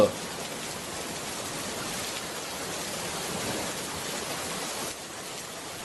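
Steady rain pours down in a Bengali village cartoon, a dense even hiss that carries through the whole stretch with no clear voices.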